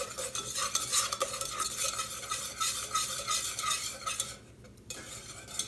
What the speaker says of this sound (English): I'm gonna whisk that around